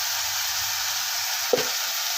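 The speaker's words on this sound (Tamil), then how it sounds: "எல்லாமே நல்லா வதக்கிடலாம் எண்ணெயிலே கொஞ்ச நேரம்" Okra and spices sautéing in hot oil for a Tamil kara kuzhambu, a steady soft sizzle with a brief stir or clink of a spoon against the pan midway.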